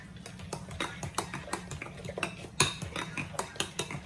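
A utensil stirring sweet potato pie filling in a bowl gives quick, rhythmic clinks and scrapes against the dish, steady and close, with one sharper knock partway through and no talking.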